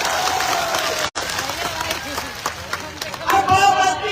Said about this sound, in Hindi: एक बार जोरदार ताली बजानी पड़ी के लिए बताओ